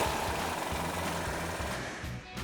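A wrench with a 21mm socket tightens a bolt on a 2019-2024 Chevy Silverado 1500 fitted with a SuperLift 3-inch suspension lift, giving a loud, steady, hammering rattle that runs without pause throughout.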